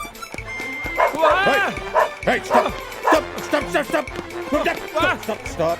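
A dog yips, barks and whimpers in excited bursts close by, with people talking and calling out over it.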